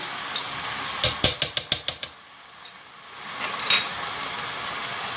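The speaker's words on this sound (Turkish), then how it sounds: "Onu da şöyle güzelce karıştırana kadar salçayı güzel karıştırdıktan sonra" A spoon stirs a spoonful of pepper paste in a cooking pot, making a quick run of sharp, evenly spaced clinks and scrapes that fade into softer, quieter stirring, with no talking.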